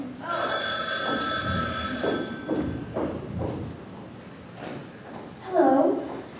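A telephone bell rings out loud and close in an indoor stage setting, a long ringing burst followed by thumps and movement, with a shorter ring near the end.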